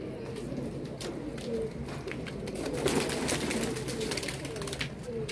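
Newly released pigeons cooing outdoors, soft repeated coos amid fluttering and light background noise, fairly quiet and close.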